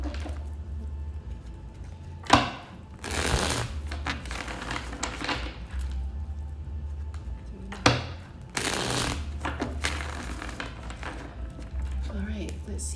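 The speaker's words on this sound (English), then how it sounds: "So I'm going to pull out 5 cards from the tarot. Let's go with 3 shuffles." Tarot cards are riffled in bursts of fluttering, crackling shuffles, three separate rounds each opening with a sharp snap, close and clear above a low steady background hum.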